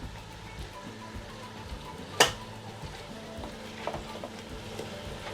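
Ginger and garlic being stirred together in a pan, a soft low sizzle with light scraping and one sharp clattering knock partway through, fairly quiet and without voices.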